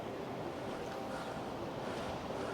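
Surf washing steadily into Slugs Bay at Mellieha, Malta, a continuous broadband wash of waves with some wind buffeting the microphone, no voices.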